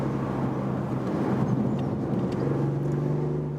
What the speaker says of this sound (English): Engine roar, which is again boosted by the speakers there.